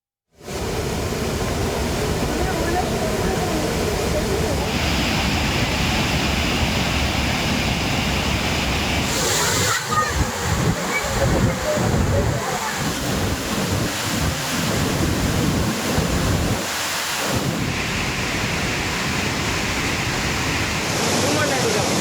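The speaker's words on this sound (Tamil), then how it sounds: "இதனால் திருப்பரப்பு அருவியில் கடும் வெள்ளப்பெருக்கு ஏற்பட்டுள்ளது" Floodwater thunders down the Thirparappu waterfall in Kanyakumari district, a loud, continuous roar of rushing water mixed with wind buffeting the microphone, with no one talking.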